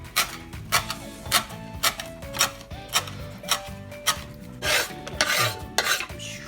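A knife chops coriander stems on a cutting board in a home kitchen, about a dozen crisp, evenly spaced taps close by, with a faster, scrapier flurry near the end and no talking.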